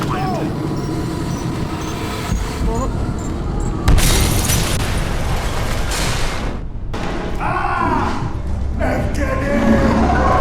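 Bomb blasts in the video game Metro Awakening, with a heavy boom near four seconds and dense rumbling, crackling debris and a dull roar running through the clip, with voices from the game mixed in.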